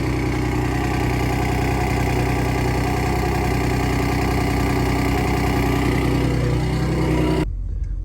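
A Ford Raptor R idles with a steady low engine drone and a faint metallic exhaust rattle running through it, constant and close for about seven seconds before cutting off abruptly near the end.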